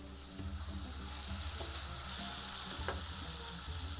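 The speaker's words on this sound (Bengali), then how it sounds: "লিড দিয়ে আমি একটু দু তিন মিনিট কষিয়ে এখন আবার একটু নাড়াচাড়া করে নিচ্ছি।" Curry masala frying steadily in a pan, a continuous close sizzle with occasional scrapes of stirring and a low hum underneath, no talking.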